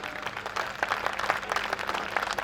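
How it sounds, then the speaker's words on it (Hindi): An audience at a Hindi comic poetry gathering in Rajnandgaon claps in a dense, fairly close burst of applause that holds steady and fluctuates in strength throughout. "तालियां कमजोर है"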